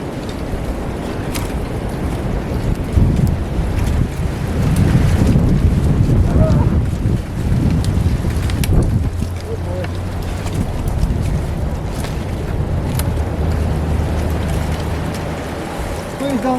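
Very high winds gust across the microphone during treetop trimming on an urban treehouse roof frame, a loud, continuous low roar with rushing buffets that barely lets up, with faint voices underneath.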